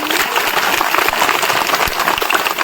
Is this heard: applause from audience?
yes